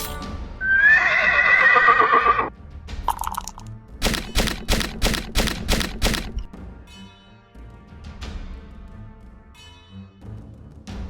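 A stallion whinnies loudly for about two seconds, then a brief thud, followed by a rapid run of sharp clip-clopping hoof strikes that fade into quieter thumps and scattered soft noises.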